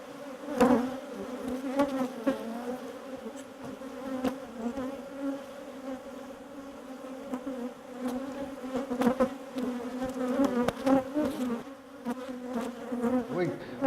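Honeybees kept in backyard hives buzz steadily and fairly loud, a dense drone of many insects with individual bees passing close by now and then, continuing throughout without talk.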